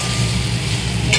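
Lote fish crumble fries in a pan as a splash of mustard oil goes in, a dense, steady close sizzle with a low rumble beneath it, short and loud.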